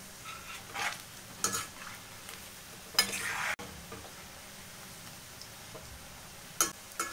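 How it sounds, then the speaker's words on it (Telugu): Onion pakoda frying in hot oil, a soft continuous sizzle with intermittent stirring scrapes and brief louder bursts of crackling, heard alone at moderate level. "ఇప్పుడు రెండో సైడ్ కూడా ఫ్రై చేసేద్దాం."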